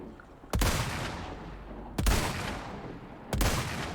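Three loud gunshots from Resident Evil 4 Remake, evenly spaced about one and a half seconds apart, each a sharp crack with a rumbling tail that decays into the game's ambience.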